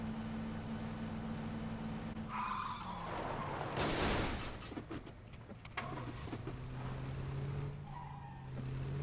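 In PUBG, a car's engine runs steadily, then a loud tire screech and skid rise and fade, followed by the engine droning on, with no voices.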